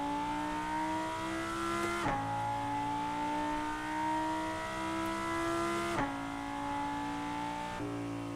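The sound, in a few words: car engine revving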